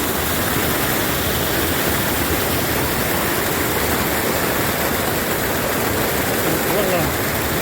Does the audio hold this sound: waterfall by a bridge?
yes